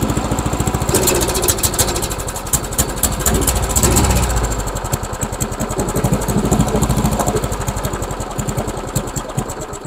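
An old, run-down lawnmower engine idling unevenly, a close, loud rapid putter of firing strokes with a brief surge in revs near the start before settling back to a ragged idle.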